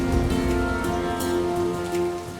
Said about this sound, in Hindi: इस वर्षा में आगे बढ़ना,